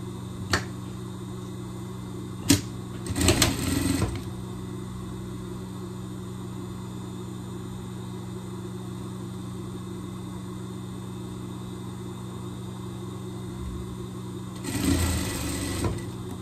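A sewing machine stitches a jacket sleeve in two short runs of rapid mechanical whirring over a steady background hum, with a couple of sharp clicks early on and no talking.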